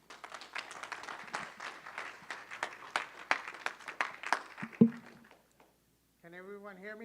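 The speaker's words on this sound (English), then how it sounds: "Let's give him a hand clap." An audience at an awards ceremony claps for an honoree, a burst of scattered hand clapping lasting about five seconds before it dies out and a voice starts talking.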